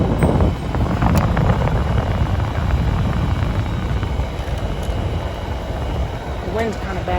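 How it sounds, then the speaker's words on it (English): Wind buffets a microphone outdoors next to a Fedders air conditioner, a steady loud rumbling roar lasting the whole stretch, with a voice briefly heard near the end. "The wind's kind of bad out here."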